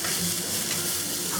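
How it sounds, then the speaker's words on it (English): Onion and garlic stir-frying in a hot pan for spicy eggplant, a steady loud sizzle with stirring scrapes throughout, no voices. "and stir fry this for about 30 seconds."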